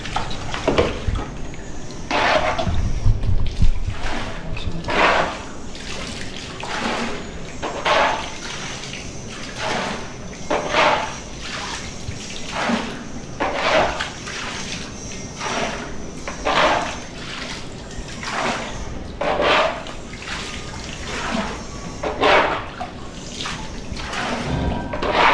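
Water runs and splashes across a terrace in uneven bursts, a fairly faint, close hiss and patter that surges and eases over and over, with a voice briefly heard.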